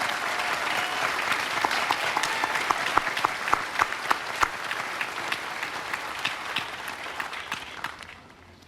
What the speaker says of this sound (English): give one more round of applause to all of our American heroes.